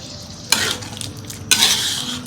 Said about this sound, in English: I'm also going to add the dried chili that I have cut into 2. And I'm going to mix it again.